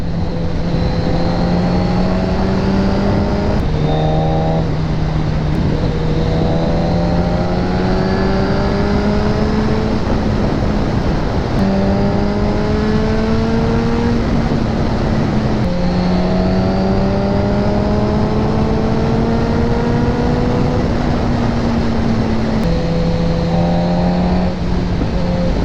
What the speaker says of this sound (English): I don't know if this is an inline 4, but